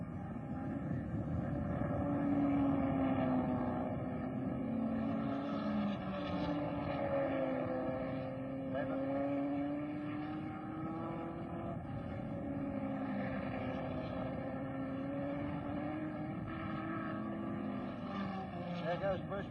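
Open-wheel racing cars at the 1963 Australian Grand Prix accelerate along a short straight, their engine notes droning and rising in pitch at a distance beneath continuous commentary.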